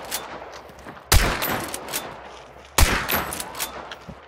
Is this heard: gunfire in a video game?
yes